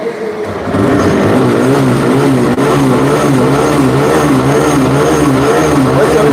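A TVS Raider motorcycle engine idles loudly close by, starting up after a moment and holding a continuous droning hum with a slight wavering pitch.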